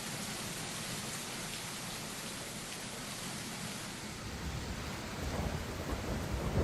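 Heavy monsoon rain at a waterfall in Nashik, Maharashtra: a thick, steady roar of rain and rushing water, constant and loud, swelling slightly toward the end, with no one speaking.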